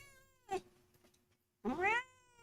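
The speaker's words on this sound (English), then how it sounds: "You got some meows for us?" A cat meows twice, a short clipped call followed after a pause by a longer, louder, drawn-out wailing meow, close and clear with no talking.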